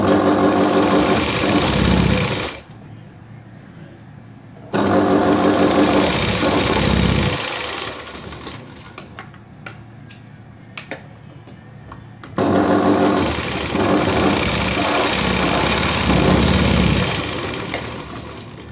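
A sewing machine runs in three long bursts while stitching the hook strip of a princess-cut blouse, a loud, fast, even whirring rattle broken by quiet pauses filled with light handling clicks.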